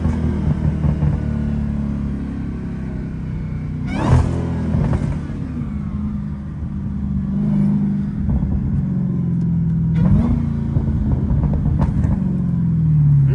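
A Dodge Hellcat engine revs loudly and steadily from the driver's seat, with rising pulls and sharp blips near four and ten seconds as it downshifts, crackling between gears.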